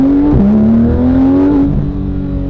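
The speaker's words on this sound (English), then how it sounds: "I have no idea how they made a V6, a flat six, sound this good." A Porsche flat-six engine revs hard with a raspy, rising note, dips briefly on a gear change, then climbs again before easing off, loud and close.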